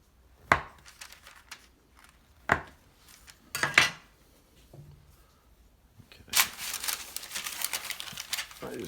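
A pastry knife cuts through rolled Vegemite and cheese scroll dough on a kitchen surface, giving several separate, close knocks and taps, then a longer crinkling, rustling stretch.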